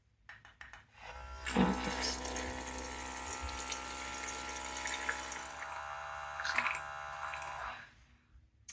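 An Outin Nano portable espresso maker brewing, a steady close mechanical pump hum with a watery, bubbling flow that starts after a second, runs evenly for several seconds, then stops, preceded by a few clicks.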